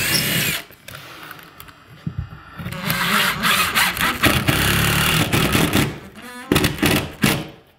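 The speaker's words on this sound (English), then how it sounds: "So I'm just going to put a couple screws here to hold it." A power drill drives screws into a drywall sheet being hung on a wall, a loud whining motor in several bursts that rise and cut off, with short pauses between runs.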